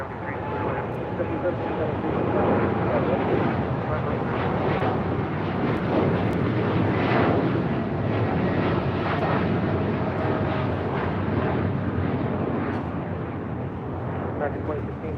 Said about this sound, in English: This is United Airlines 2614 taking off to Newark on the 787-10 Dreamliner.